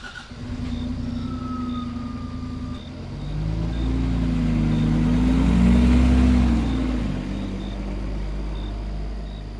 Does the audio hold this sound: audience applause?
no